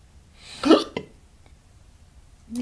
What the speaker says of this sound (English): And I got the hiccup.